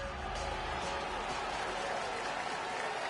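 Stadium crowd in an EA Sports NFL game, Patriots against Chargers, roaring and applauding as a continuous dense wall of cheering, heard without any commentary.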